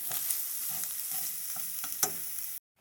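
Browned ground turkey sizzles and crackles steadily in a hot pan with occasional stirring scrapes, close and continuous before cutting off abruptly near the end.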